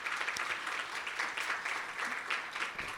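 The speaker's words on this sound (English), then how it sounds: "Could I just get a quick round of applause for all of the work that they do?" A crowd applauds steadily for a few seconds, a dense wash of clapping heard from a distance.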